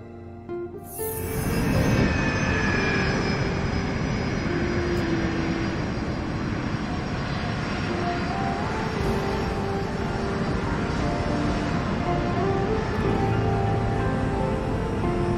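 Airliner taxiing out for takeoff at an airport, a brief whine at the start and then a loud, steady engine roar and hum that holds throughout, with no voices.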